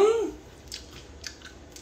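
Raw broccoli is chewed close to the microphone in a few soft, wet, crunchy bites after a brief voice at the start.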